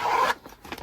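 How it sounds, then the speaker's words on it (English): A zipper on a Distress Oxide craft pouch is pulled open in one quick, raspy zip, close and clear, followed by faint rustling handling of the pouch. "Distress Oxide zipper pouch"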